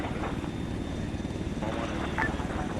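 A steady aircraft engine drone from a military simulation game, heavy low rumble filling the whole stretch as the plane slows and descends on a long left base toward the runway, with faint speech under it.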